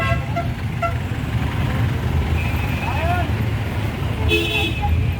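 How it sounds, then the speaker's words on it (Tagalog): Dense evening rush-hour street traffic, with a steady low rumble of engines, several short car horn toots and a longer honk near the end, close and loud throughout. "Grabe ang traffic guys."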